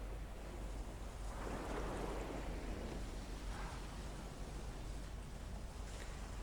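Soft, continuous beach ambience: ocean waves washing in a broad hiss with gentle swells, and low wind rumble against the microphone, faint and steady with no talking.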